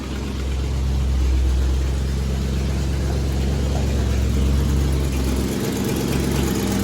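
A car engine with a leaking exhaust runs steadily and loudly up close, a rough, continuous low drone that holds nearly unchanged throughout with a slight dip near the end.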